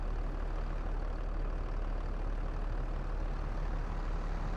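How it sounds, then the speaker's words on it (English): A ridiculously sized tractor in Farming Simulator 22 rumbles in a steady, low, even drone, faint and continuous with no talk over it. "But then he does have a ridiculously sized tractor."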